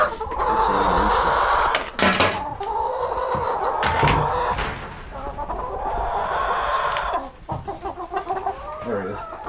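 A rooster and several hens cluck and squawk close by, a busy overlapping stream of calls with a couple of sharper bursts.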